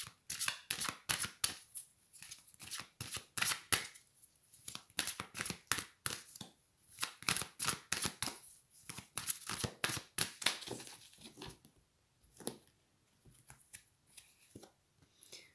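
Tarot cards being shuffled close to the mic, with quiet rapid riffling and flicking bursts broken by short pauses. No voices are heard.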